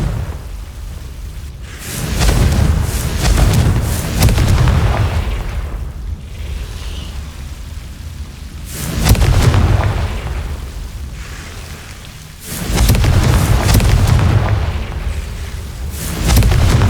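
Confringo blasting spell explosions in Hogwarts Legacy, three loud rumbling fiery blasts spaced several seconds apart, each swelling and then decaying into a fading roar, with no talking.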